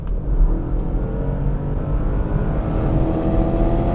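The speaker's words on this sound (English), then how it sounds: "Panamera engine is very flexible regardless of the speed" A Porsche Panamera Sport Turismo estate engine accelerating, a steady loud low rumble with rising revs that swells slightly over a few seconds, close and continuous with no talking.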